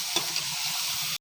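Broiler chicken pieces with turmeric sizzle in a hot pan as they are stirred, a close, continuous frying hiss with a couple of brief scraping clicks from the spatula.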